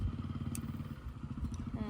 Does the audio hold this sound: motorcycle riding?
yes